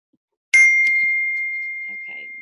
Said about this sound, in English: why am I getting notifications?